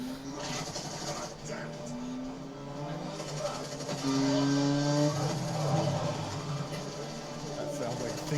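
Engine revving and whining with rising pitch sweeps of a motorcycle accelerating in the video game Final Fantasy VII Remake, mixed with game music and voices speaking over it.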